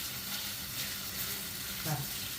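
Tomatoes sautéing in a pan for chicken kothu curry give a steady, even hiss of frying throughout, with a brief faint voice near the end.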